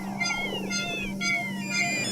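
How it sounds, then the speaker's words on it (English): A cat meows repeatedly in a series of close, clear calls over a steady low electrical hum, with no speech. "Ansa, we have a meow alert."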